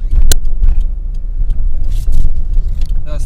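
A car drives along loudly, with a steady rumbling engine and road noise heard from inside the cabin and occasional brief clicks and rattles.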